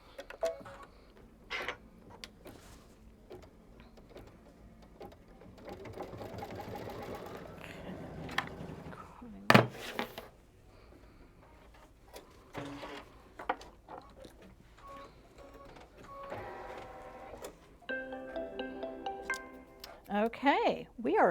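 An embroidery machine stitches the final stitch on a quilt block, giving rapid mechanical clicking and whirring bursts with short pauses between runs. Quiet speech can be heard at points.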